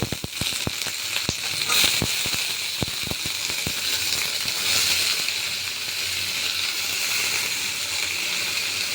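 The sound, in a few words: chopped carrots and potatoes added to hot oil, frying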